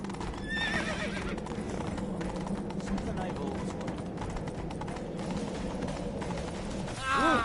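Geralt's horse Roach in The Witcher 3 gallops with steady, close hoofbeats, letting out a whinny early on and another at the very end.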